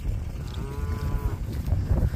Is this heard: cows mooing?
yes